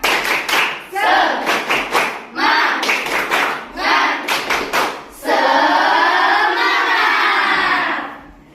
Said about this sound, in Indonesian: Tepuk semangat seperti biasanya, supaya hari ini kita tambah semangat